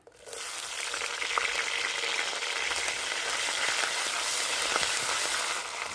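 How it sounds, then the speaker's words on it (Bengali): Ginger paste and green chillies frying in a little oil in a wok give a loud, steady crackling sizzle close up. It swells in the first half second and then continues evenly with no voices. "তেলের মধ্যে আমি আদা বাটা কাঁচা লঙ্কা ফোড়ন দেবো"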